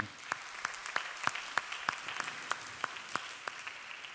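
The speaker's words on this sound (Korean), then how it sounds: "우리 다시 한번 서로에게 환영의 박수 한번 하겠습니다" Sharp, evenly spaced claps ring out about three per second, fairly quiet with a light background of others joining in.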